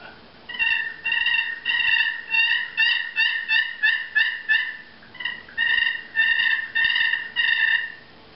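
A hand-held turkey slate call made of Alaskan yellow cedar with a slate soundboard gives repeated hen-like yelps in quick bursts, close and clear with no talking.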